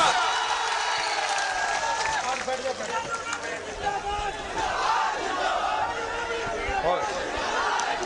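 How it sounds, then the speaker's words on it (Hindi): A large political rally crowd in Bihar roars and cheers with scattered applause as opposition leader Tejashwi Yadav arrives, a dense, continuous wall of voices and shouting throughout. "जोरदार तालियों से स्वागत"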